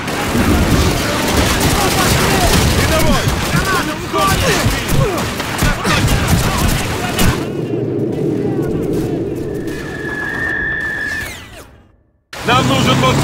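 Heavy gunfire and explosive blasts from a Call of Duty village battle, loud, dense and continuous for several seconds before thinning into scattered shots, a high whine and a sudden cut, with shouted voices in the mix.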